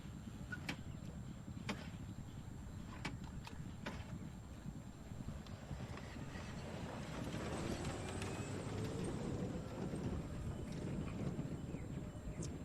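Polo horses' hooves clatter and thud on the field during a polo match, a faint irregular drumming over steady wind and outdoor noise with no clear speech.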